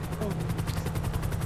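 A helicopter's rotor pulses rapidly and evenly in Billionaire City RP, a loud, steady chop filling the whole stretch along with low engine noise.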